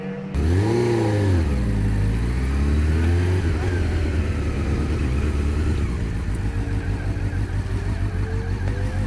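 A motorcycle pulls away with a revving rise in engine pitch, then settles into a steady, close idling drone during a low-speed riding lesson on starting and stopping; no talk is heard over it.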